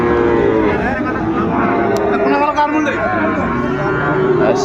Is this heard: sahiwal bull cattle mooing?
yes